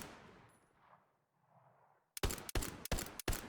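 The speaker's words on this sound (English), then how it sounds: "if we just swap quickly to our pistol and stand back up, you can hear some of the new pistol stuff" A pistol fires in the Hell Let Loose video game, several sharp loud shots in quick succession after a quiet stretch of soft movement and equipment sounds, close and punchy with no voices.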